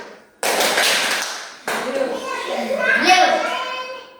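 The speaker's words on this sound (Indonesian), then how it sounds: "Kita beri tepuk satu untuk kelompok satu." A seventh-grade class at an Indonesian junior high school claps a rhythm together in a burst, then a second round of clapping blends with excited young voices calling out.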